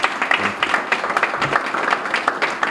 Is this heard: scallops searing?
no